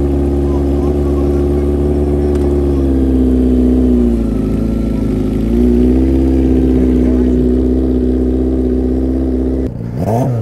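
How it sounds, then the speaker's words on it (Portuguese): A sport motorcycle at a top-speed day revving hard during a very short tyre burnout, a loud sustained engine roar with dips and surges in pitch, cutting off abruptly near the end. "Vou dar um burnoutzinho bem curto, só para tirar a cera do pneu"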